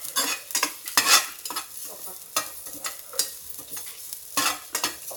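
Grated coconut stir-fried in a pan, with repeated bursts of sizzling and the scrape of a spatula stirring in an uneven rhythm, close and fairly loud with no talk.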